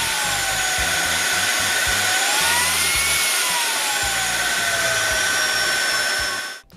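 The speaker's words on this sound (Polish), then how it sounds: "Na dole jest przycisk, który zmienia 3 moce ssania odkurzacza." A Laresar V7 cordless stick vacuum runs with a steady high-pitched motor whine and airy rushing, its pitch shifting slightly as suction changes between its three power levels, running continuously up close before cutting off at the end.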